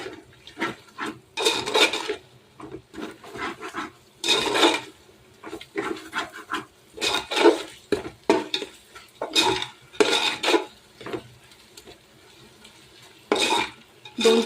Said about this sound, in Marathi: दोन ते 3 मिनटं ह्या मसाल्यांनाही ह्याच्यामध्ये फ्राय होऊ द्यायचं आहे